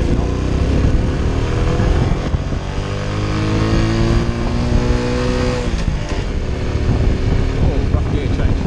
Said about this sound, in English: Oh, rough gear change.